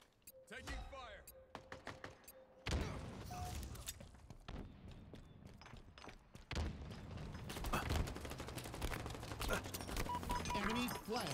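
Rapid gunfire from Halo Infinite rattles in bursts and sustained volleys over busy game sounds, with mechanical clicks and clanks and game voices now and then.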